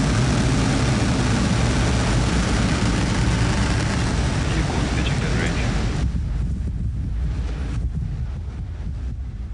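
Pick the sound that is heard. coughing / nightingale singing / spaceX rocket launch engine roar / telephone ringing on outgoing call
spaceX rocket launch engine roar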